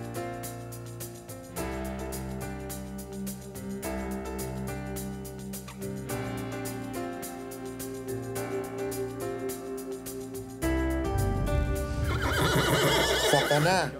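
Horses at a premium riding school in Austria whinny, with a long, wavering neigh rising near the end over steady background music.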